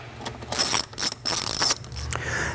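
Plastic airbox cover and air filter come off a 2014 Indian Chief motorcycle, several short clicks, snaps and rattling handling noises in quick bursts, close and fairly quiet.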